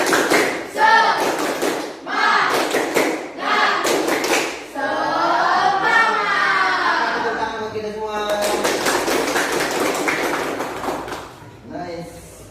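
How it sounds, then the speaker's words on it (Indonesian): A school class performs tepuk semangat, a rhythmic spirit clap, with bursts of patterned clapping mixed with children chanting and a teacher's voice throughout. "Oke, kita tepuk semangat terlebih dahulu."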